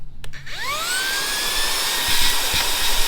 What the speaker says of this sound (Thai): อันนี้จะเป็นเครื่องดูดฝุ่นนะ